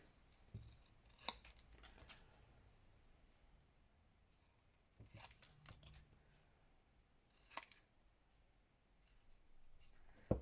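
Scissors snip and trim paper for a no-sew envelope journal, a few close, crisp cutting bursts spaced across a quiet room with no talking.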